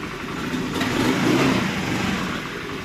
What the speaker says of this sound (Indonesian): Nah ini posisi mesin nyala.